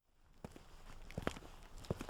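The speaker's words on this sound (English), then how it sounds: "Footsteps, coming from the direction of the trucks." Footsteps approaching from the direction of parked trucks at night, a slow, sparse series of soft steps on hard ground that grow slightly louder, with a few sharper scuffs, heard alone in a quiet setting.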